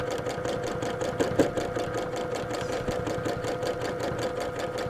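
A sewing machine stitches steadily during free-hand quilting with Mettler thread, a fast even mechanical chatter running continuously up close with no pauses.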